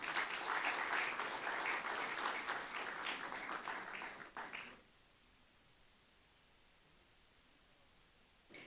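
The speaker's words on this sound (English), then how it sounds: "So he definitely deserves a big applause for it." Audience applause at an annual university research meet, a dense clapping burst lasting several seconds before cutting off abruptly into near silence.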